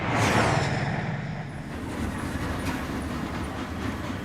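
A train runs along rails with a loud, broad rumble and a whoosh that peaks early, then settles into a steady rolling roar with faint clickety-clack.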